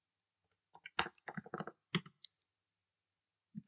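A computer keyboard is typed on in quick, irregular bursts of crisp, close clicks, with a short pause before a final few keystrokes.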